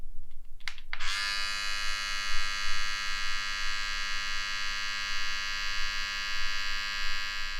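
An Oral-B iO2 electric toothbrush switches on after a couple of brief clicks and then runs with a loud, steady, high-pitched motor whine. The hum stays close and constant, with no voices.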